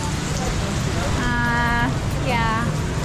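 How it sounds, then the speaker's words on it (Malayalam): Steady rain falls in Hoi An, Vietnam, a constant close wash of broadband patter throughout, with a voice speaking briefly over it. "ഇവിടെ മഴയാണ് ഗൈസ്, ഇവിടെ മഴയാണ്"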